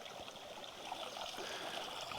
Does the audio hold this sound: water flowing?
yes